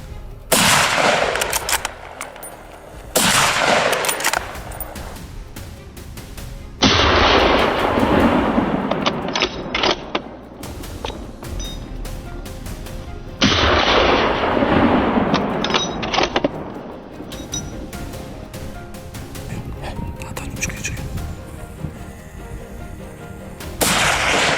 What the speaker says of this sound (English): A series of gunshots rang out right at the location where the wild boar was active